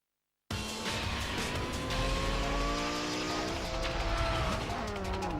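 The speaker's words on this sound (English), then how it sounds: "here is Ming in his Lamborghini Gallardo" Lamborghini Gallardo racing in Need for Speed: Most Wanted on PS2, its engine kicking in loud after a short silence and revving steadily upward through gear changes with tire noise, no voices.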